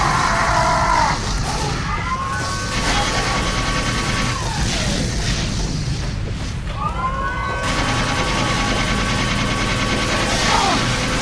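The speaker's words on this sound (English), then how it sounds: "Whoa, who's shooting me?" Chaotic Team Fortress 2 payload match with dense, continuous gunfire and explosions layered over whooshing projectile sweeps and loud game noise, with players occasionally shouting.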